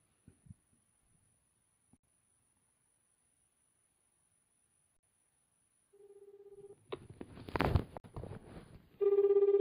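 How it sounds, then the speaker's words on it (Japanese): An outgoing telephone call placed during a live Japanese broadcast: a few soft taps and a pause, then a run of dialing tones and noisy clicks, ending in a loud, steady ringback tone with no voices. "お電話をおかけしたいと思いますので"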